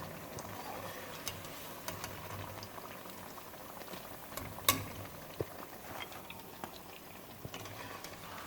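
Pakoras bubble and fry in hot oil, a steady close boiling hiss with occasional small pops and clinks of a utensil lifting them out; no talking.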